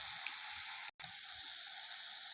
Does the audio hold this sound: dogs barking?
no